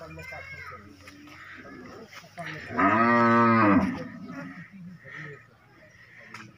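A young female buffalo gives one loud, drawn-out moo in the middle, surrounded by people talking nearby.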